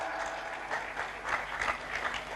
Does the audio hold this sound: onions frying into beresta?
no